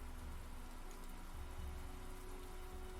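Steady rain falls for the whole stretch as a constant, dense wash of drops with a low rumble underneath, even and unbroken, with no voices over it.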